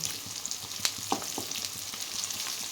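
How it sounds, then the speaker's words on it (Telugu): Stuffed bitter gourds cook on a low flame, a soft continuous sizzle with occasional light clinks and scrapes as they are turned in the pan, moderately close, with no talking. "అన్నీ ఇలాగ తిప్పుతూ సిమ్లో మగ్గనివ్వాలండి"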